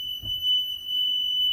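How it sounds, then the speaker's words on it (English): A school bus's steady, high-pitched electronic buzzer sounds continuously, with a faint thump near the start. "Lights and buzzers work."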